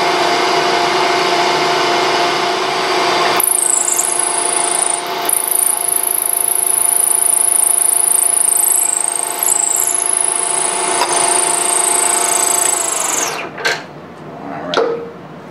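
A South Bend 13-inch metal lathe runs on its slowest power feed, giving a steady, loud mechanical whine and hum with a high continuous tone. The tone cuts out and shifts near the end, with no talking.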